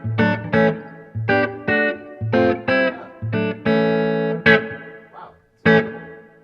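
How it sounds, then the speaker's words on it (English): Electric guitar runs through the room reverb setting of a Source Audio Ventris pedal: choppy chord stabs and sustained chords with a short roomy tail, loud and close, with brief pauses between phrases. "this is the room reverb"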